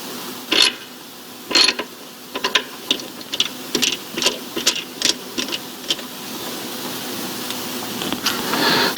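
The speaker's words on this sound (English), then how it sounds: "So we got the nut back in on the front crankshaft pulley, and this one is torqued to 410 Newton meters" Ratcheting clicks from a wrench tightening the nut on a BMW front crankshaft pulley, a series of sharp mechanical clacks in irregular bursts, fairly close, with no talking.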